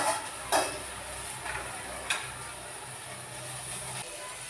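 Chopped onion and tomato fry in a pan at home, giving a steady low sizzle with a few sharp clicks of a spoon stirring against the pan, fairly faint and without talk.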